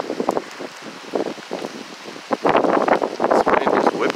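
Strong wind gusts ahead of a winter storm, rough buffeting rushes that build from intermittent bursts into a loud, sustained roar over the microphone in the second half.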